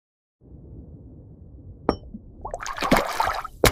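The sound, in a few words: AI-generated water splash sound effects in a perfume ad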